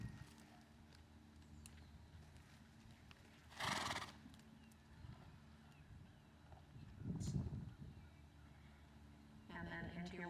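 A horse ridden through a dressage lesson around cones, its soft hoofbeats mostly faint against a quiet arena, punctuated by a couple of louder bursts of snorting and whinnying.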